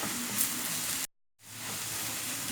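Turmeric and other ground spice powders fry in a pan for a recipe of red chicken coloured with beetroot, giving a steady close sizzle that cuts out briefly midway and then resumes, with no talking.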